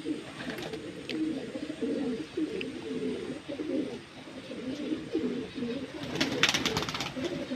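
Pigeons on a rooftop coo in low, rolling phrases that run steadily throughout, with some background noise and no speech.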